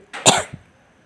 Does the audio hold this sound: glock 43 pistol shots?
no